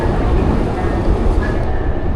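Train rumble fills a marble-walled metro station, a loud continuous low roar with faint squeals and clatter as cars move through.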